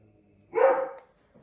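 One sharp, close bark from a pet dog indoors in a condo, a single short burst in an otherwise quiet room.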